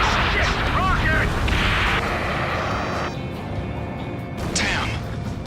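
Rocket explosions in the Ace Combat 7 video game near a harbor, heavy booming blasts and roaring mechanical noise dense throughout, with a brief whooshing sweep near the end and voices talking over it.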